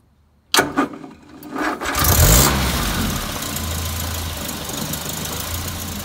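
A Land Rover Series 3 engine with the choke about halfway out turns over weakly on a fully charged battery, then catches with a loud, rough burst and settles into an uneven idle that runs steadily to the end.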